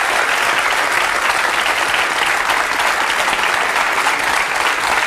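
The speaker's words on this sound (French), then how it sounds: "On peut applaudir Claude" A studio audience applauds steadily and loudly for several seconds, a dense continuous wash of clapping with no talk over it.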